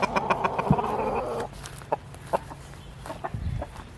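Chickens cluck on a farm in June, with a dense run of close, rapid clucks at first, then scattered single clucks and short calls over quiet outdoor background.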